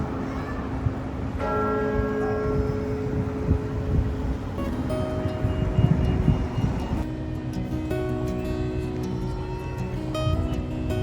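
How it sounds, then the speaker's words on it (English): Church bells at St Paul's Cathedral in London ring out across the street in a layered, sustained peal, with low traffic rumble running steadily underneath. "Certainly hear the bells."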